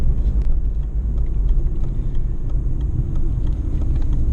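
Road rumble of a car being driven, a loud continuous low drone with tyre and engine noise steady throughout and no talking.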